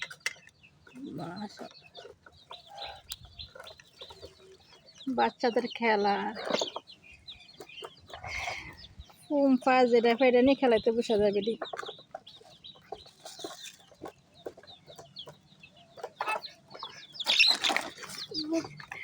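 A chicken clucks close by in bursts of rapid throaty notes, with brief wing flaps and scuffling, while people talk on and off nearby.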